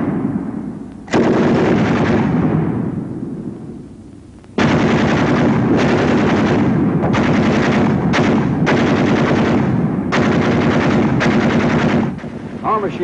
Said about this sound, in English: Ever hear a battle between 2 machine guns?